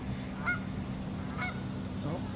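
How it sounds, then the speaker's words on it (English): Two or three goose honks ring out at roughly one-second intervals, moderately close, over a steady low background hum, geese in a flooded front yard by the river in Davenport. "We got geese right in the front yard coming up the river."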